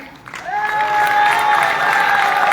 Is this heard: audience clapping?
yes